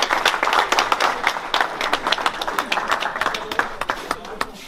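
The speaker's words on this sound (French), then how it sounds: "Applaudissons encore pour eux." Audience at an association's tenth-anniversary celebration gives a round of applause, moderately loud scattered clapping with distinct individual claps throughout.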